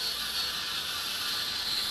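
Toy laser screwdriver with its button held down, giving a steady, fairly quiet electronic whirring buzz that runs continuously, alone with no voices.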